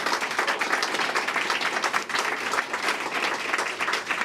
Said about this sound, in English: So we'll give her a round of applause for her leadership.